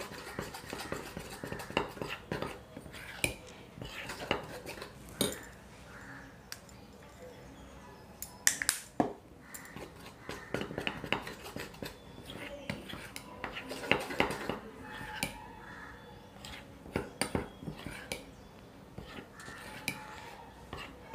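A spoon stirs a chocolate mixture for cassata cones and barfi in a bowl, with repeated scraping clinks and taps of metal against the dish in an irregular rhythm, close up, while someone talks intermittently.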